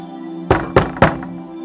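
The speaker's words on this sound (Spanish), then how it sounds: "De repente, escuchó un golpe en la ventana." Three hollow knocks on a window in a Spanish-language story reading, evenly spaced, close and fairly loud over a steady low hum.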